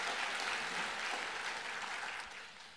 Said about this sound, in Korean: 박수 한번 해드리시죠